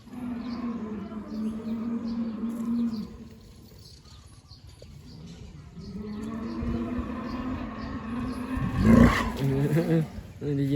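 An elephant calls out in an elephant village, a deep rising roar that swells to a loud peak near the end, with people talking over the background throughout.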